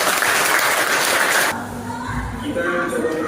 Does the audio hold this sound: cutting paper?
no